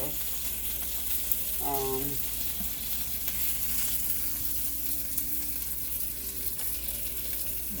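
Turkey bacon cheeseburgers with a little onion fry in a pan, giving off a steady, close sizzle with a brief whistling tone early on and no talking.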